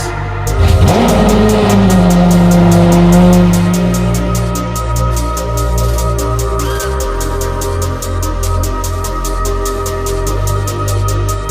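A Lamborghini Aventador Ultimae V12 supercar engine sounds loud and close, rising in a strong rev before settling into a steady deep drone, with a rhythmic musical beat running alongside.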